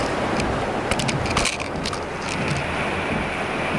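Steady rain drums and patters on a moving car in Pakistan, with a constant hiss of water and wind noise throughout, loud and close.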